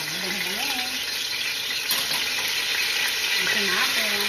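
Garlic frying in hot oil in a fairly large wok, a steady broadband sizzle that runs throughout while a voice speaks over it.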